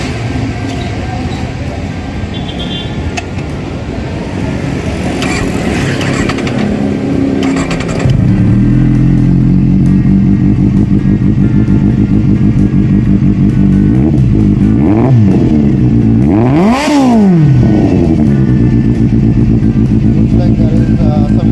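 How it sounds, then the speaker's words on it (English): A Kawasaki Z800 motorcycle with a Two Brothers exhaust starts up and settles into a loud, close idle, then gives a few sharp throttle blips that rise and fall. "So the exhaust is back, and the moment of truth, we'll turn it on."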